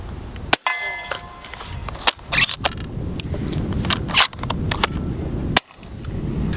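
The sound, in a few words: suppressed 7.62 rifle firing 220 grain subsonic rounds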